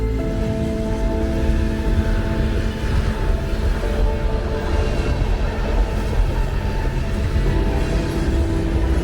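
A train rolls steadily past close by, its broadband rumble and grinding wheel noise holding loud and even throughout with no pauses.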